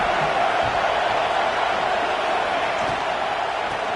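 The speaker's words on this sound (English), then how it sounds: "Man, this crowd really affecting the football game." A home crowd at a football game roars as a steady, dense wall of noise, loud and unbroken for the whole stretch, with no distinct voices standing out.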